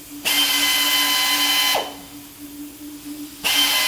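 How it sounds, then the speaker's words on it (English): A power drill bores a hole in a steel pan at a Trinidad and Tobago workshop: two loud, whining bursts of drilling, the first over a second long, then a quieter gap before the drill starts again. "What he's attempting to do there, I don't know why it's not working now, is to drill a hole"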